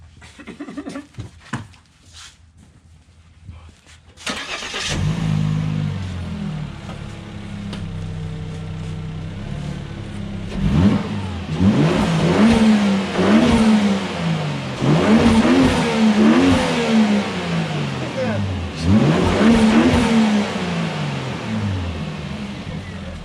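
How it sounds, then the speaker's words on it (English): A Volvo S60 T6 fitted with a GFB diverter valve cranks over and starts, then idles before several sharp revs that rise and fall in repeated bursts, loud and close throughout. "So now I'm gonna start it up and give it some revs."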